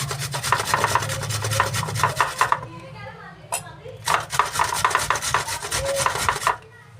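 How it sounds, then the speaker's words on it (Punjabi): An onion is rubbed briskly back and forth on a grater in quick rasping strokes, stopping briefly midway before resuming, with a voice talking over the start. "ਆਪਾਂ ਪਿਆਜ਼ ਨੂੰ ਇਦਾਂ ਕਰ ਲੈਣਾ ਕੱਦੂਕਸ ਬਹੁਤ ਆਸਾਨੀ ਨਾਲ ਹੋ ਜਾਂਦਾ ਹੈ"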